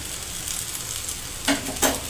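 Oil for spicy pudla hisses and sizzles in a pan over a low flame, a soft steady crackle with two brief louder spurts near the end.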